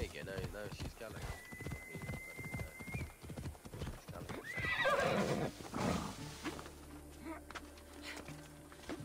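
Rapid rhythmic hoofbeats of a galloping horse in Assassin's Creed Odyssey fill the clip, with a horse whinny midway and a voice talking over the hooves.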